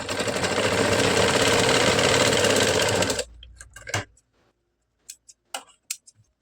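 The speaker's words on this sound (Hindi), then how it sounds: "अब इस कपड़े को दबाकर सिलाई चलानी है।" A sewing machine stitches blouse fabric in a loud, steady run of about three seconds, then stops; a few soft handling clicks and taps follow in the quiet afterward.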